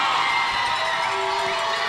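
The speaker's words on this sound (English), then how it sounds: "you can hear the crowd." A crowd in the stands of a boys' high school basketball game between Monument Valley and Window Rock gives off a steady roar of cheering and shouting in a large gym, constant and fairly loud throughout.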